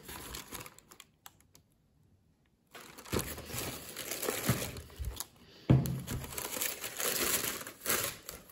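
Paper wrapping around a pair of Nike Air Max 1 Chili Volt sneakers crinkles and rustles up close, dry crackling bursts following a quiet stretch, with no talking.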